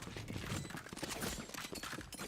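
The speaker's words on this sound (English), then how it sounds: "gunshots are raging on all sides" Dense, continuous gunfire crackles from several directions in a Valorant match, with rapid overlapping shots and no clear gaps.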